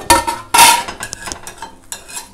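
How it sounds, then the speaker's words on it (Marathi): A metal lid clatters onto a pan while narvelichi poli cooks on low gas, two sharp clanks followed by lighter scraping and tapping, close and clear with no talk. "परत झाकण ठेवते"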